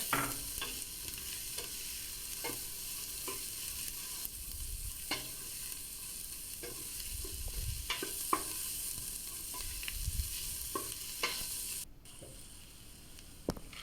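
Finely chopped onions sizzle gently in a pot for lentil soup while a utensil stirs and scrapes now and then, a soft steady frying hiss throughout.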